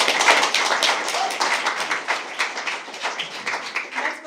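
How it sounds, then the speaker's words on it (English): An audience at a DevOps and Agile meetup gives the core team a round of applause, a dense, rapid patter of handclaps that holds steady for several seconds at moderate volume. "Applause to them who helped us."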